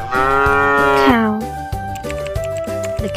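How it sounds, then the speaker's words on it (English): A cow gives one long, loud, drawn-out moo lasting about a second, then falls silent while steady, rhythmic background music continues throughout. "Cow."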